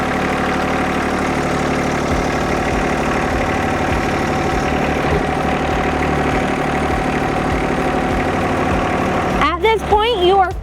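A John Deere 1025R sub-compact tractor engine idles steadily and close, with a low, even rumble throughout and a brief voice near the end.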